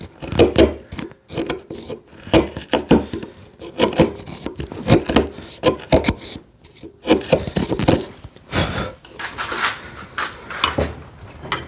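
A chisel pares and cleans up the corners of a joint in wood during hand-tool work on a TV unit, producing repeated close scraping and rasping strokes in an irregular rhythm, with no talking.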